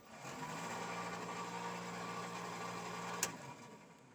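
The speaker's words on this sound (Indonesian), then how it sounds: "Dan yang bunyi itu adalah kipas angin." Electric radiator cooling fan whirring steadily on a Suzuki Carry fitted with a Suzuki Thunder 125 motorcycle engine, a constant hum with a brief sharp click near the end.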